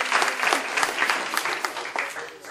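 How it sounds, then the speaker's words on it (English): Audience applause at a financial planning seminar workshop: a dense, steady crowd clapping that stays loud and close for the whole stretch, with no voices over it. "can I hear a loud applause?"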